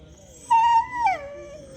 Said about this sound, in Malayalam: നമ്മൾ എവിടെ പോയാലും പട്ടികളുണ്ട്, അറച്ചേക്കുന്നു